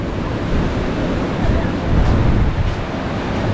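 Loud, continuous surf rolls in at Gopalpur beach while strong sea wind buffets close by, with no pauses throughout.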